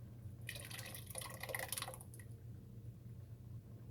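Crushed tomatoes slide from a can into a pot of sausage, shrimp and okra gumbo, a brief wet glugging splatter lasting about a second and a half before fading to a quiet kitchen hum.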